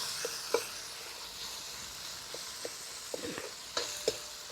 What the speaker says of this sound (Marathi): आपला कांदा टमॅटो छान परतून झालेला आहे